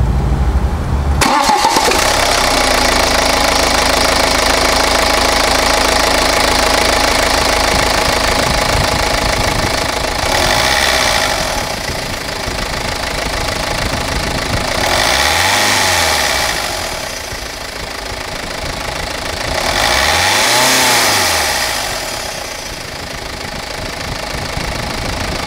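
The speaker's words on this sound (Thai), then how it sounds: "เสียงเครื่องยนต์กัน" A BMW X3 E83 SUV diesel engine starts and settles into a steady, loud rumbling idle, with a couple of slow swells in revs, close by and without speech.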